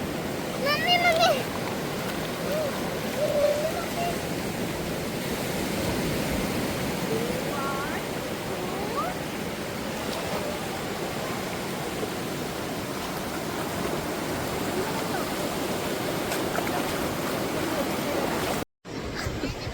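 Waves wash steadily onto a beach at night, a broad continuous surf roar close by, with a voice calling briefly near the start.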